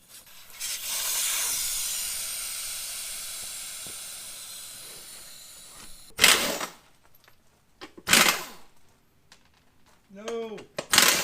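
Air rushes out of a small go-kart or lawn mower tire as the valve core is pulled, a strong steady hiss that slowly fades over several seconds, followed by a few short clicks and a brief voice.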